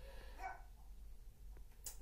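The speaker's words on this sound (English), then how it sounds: "my dog's barking" A dog barks a couple of times indoors, faint and short, with a quiet yip near the end and no talking over it.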